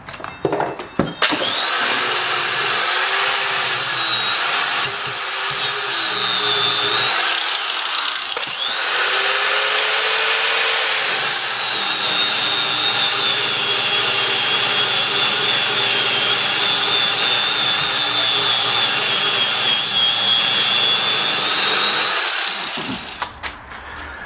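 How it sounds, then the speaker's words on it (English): A bench grinder working micarta handle scales on a Hudson Bay camp knife, a loud, continuous high whine and rasp that holds for over twenty seconds, briefly dipping in pitch as pressure shifts, then stopping. "We'll get this this guy on the bench, start grinding away, and see what happens."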